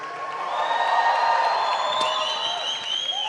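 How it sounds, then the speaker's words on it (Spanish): A live audience at a Guatemalan Christian event applauds and cheers as Marcos Witt is welcomed, a swelling wave of clapping and whoops with a few whistles, crowd-wide and fairly near. "Un fuerte aplauso para este guerrero de la fe."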